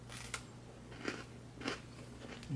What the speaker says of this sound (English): Gives you that initial crunch, and then it just kind of starts melting away.